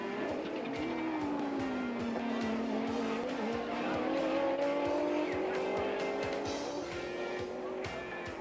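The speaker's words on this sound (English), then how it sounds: "an awful lot of horsepower was unleashed as the cars streamed into the first corner" Race cars, among them a Repsol Audi, accelerate into the first corner at Killarney in a 1992 South African touring car race, engines whining and rising in pitch together, with tires squealing through the turn under a dense crowd-like roar.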